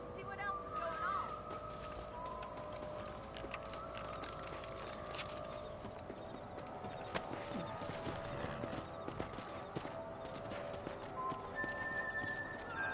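Quiet rhythmic hoofbeats clip-clop steadily as horses move along in Red Dead Redemption, with soft background ambience and occasional faint sounds.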